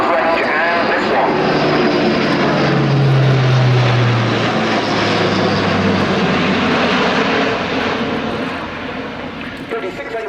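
An Airbus A400M military transport, a four-engine turboprop, flies past at an air show with a loud, sustained propeller and engine roar that swells and then slowly fades, while a commentator talks over it.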